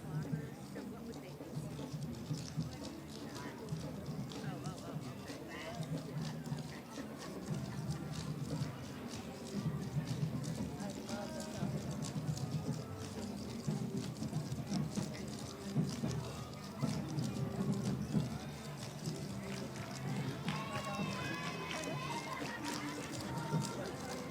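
Rapid, dense tapping of many clogging dancers' shoes on pavement at a firemen's parade continues throughout, mixed with crowd chatter and an announcer's voice outdoors.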